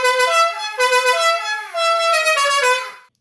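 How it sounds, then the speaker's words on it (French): A musical car horn plays the La Cucaracha tune as a loud, buzzy run of rising and falling notes, heard close up, then cuts off abruptly. "Chez moi, j'ai un klaxon musical qui fait la cucaracha."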